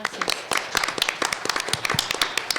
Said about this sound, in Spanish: Les pido por favor un fuerte aplauso.